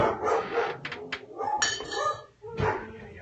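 Several dogs bark repeatedly at someone passing the house, sharp overlapping yips and barks in quick irregular bursts, fairly close and loud.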